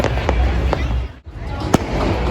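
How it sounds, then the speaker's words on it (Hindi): Fireworks bursting at night over a kite festival in Charminar, several sharp booms spaced out over continuous crowd noise and rain-like hiss. "देखो फायर वर्क्स हो रहे, तो ये देखें चारों तरफ से आपको फायर वर्क्स ही दिखते पूरे"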